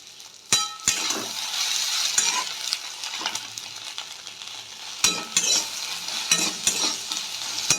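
Torn bread pieces fry with cumin and curry leaves in a pan, giving a continuous close sizzle broken by repeated sharp scrapes and clinks of a spatula stirring against metal, with no voices.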